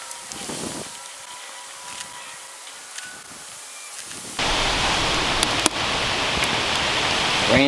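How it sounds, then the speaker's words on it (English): Rain begins falling outdoors during a thunderstorm, starting with quiet scattered sounds and then switching abruptly to a steady, loud hiss of rain, with a few sharp knocks on top. "Rain's falling."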